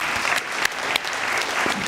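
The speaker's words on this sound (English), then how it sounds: "So a collective round of applause for everybody." Audience applause at the unveiling of a commemorative plaque honouring Dr. Martin Luther King on a UK building, a dense, steady burst of many hands clapping close by, holding even for the full length with no talk over it.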